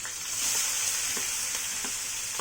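Chunky-cut green chillies and onions fry in a pan with a steady bright sizzle, punctuated by soft occasional stirring taps, close and continuous without any talk.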